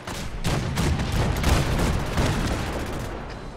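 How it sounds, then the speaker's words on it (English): Rapid booming cannon blasts in a dense volley from the USS Constitution in Fallout 4, loud and close, overlapping one another for a few seconds. "I want to fire the cannons. Fire the cannons!"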